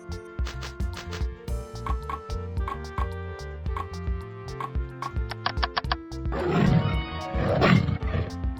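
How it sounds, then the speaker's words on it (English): A tiger roars twice, loud and rough, toward the end over a steady rhythmic music track. "Tiger."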